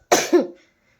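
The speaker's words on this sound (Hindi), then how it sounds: "तो खांसी अभी बहुत ज़्यादा है दोस्तों, बोलने में दिक्कत हो रही है।" A woman with a sore, scratchy throat coughs once, close and sharp, in two quick bursts before the clip falls silent.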